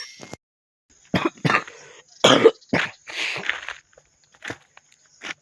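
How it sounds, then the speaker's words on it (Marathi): A person outdoors near ongoing construction work coughs in a series of harsh bursts, several close together and then a few spaced single coughs, loud and close with quiet gaps between. "खोकला लय यायला लागला"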